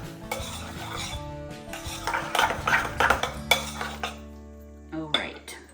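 Fresh guacamole gets stirred to work in a little salt: a continuous wet, scraping churn with utensil clinks against the bowl, fairly close, easing off near the end.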